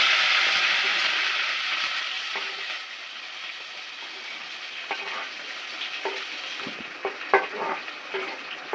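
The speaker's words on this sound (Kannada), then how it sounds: "ಫಸ್ಟ್ ಕರಿಬೇವು ಹಾಕ್ತಾರೆ, ಆಮೇಲೆ ಈರುಳ್ಳಿ ಹಾಕ್ತಾರೆ. ನೀಟಾಗಿ ಸಿಡಿಯೋದು ಸ್ವಲ್ಪ ದೂರ ನಿಂತ್ಕೊಂಡು" Curry leaves spluttering in hot oil for a North Karnataka-style tempering, a dense steady sizzle that starts loud and eases slightly, then scattered sharp pops and crackles in the later seconds, close and with no talking.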